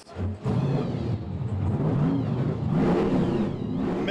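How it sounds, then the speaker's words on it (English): Several cars at an Outlaw Garage car show at Ace Cafe Orlando rev their engines together, a close, loud, continuous roar with rising and falling throttle blips that starts abruptly and holds for several seconds. "Ladies and gentlemen, start your engines!"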